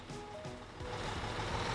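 A truck reverses on a construction site in Construction Simulator 2015, its steady beeping tones repeating over a continuous engine rumble that grows slightly louder.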